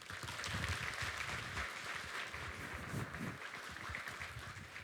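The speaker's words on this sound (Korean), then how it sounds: "우리 목사님 나오실 때 주님을 기대하고 사모하는 마음으로 큰 박수로 모시도록 하겠습니다." A church congregation applauds to welcome the pastor to the pulpit, a steady, diffuse wash of many hands heard from a distance in a large hall, with no talk over it.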